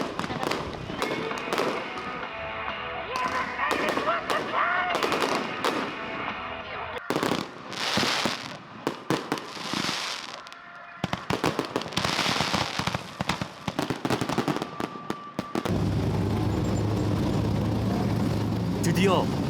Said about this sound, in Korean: 결승전을 앞두고 관중들을 위해 불꽃놀이가 시작됐다.